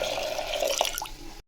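Water runs steadily into a cooking pot for about a second and a half, a close, bright splashing pour that stops abruptly.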